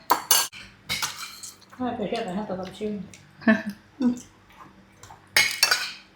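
A spoon clinks and scrapes against a bowl several times during a meal, with people talking between the sharp metallic taps.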